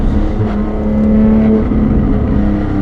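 Porsche 718 GTS 4.0 engine revving hard, a loud, steady close-up howl with gear shifts breaking up the drone as it pulls through the rev range.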